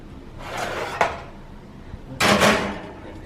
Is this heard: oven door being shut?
yes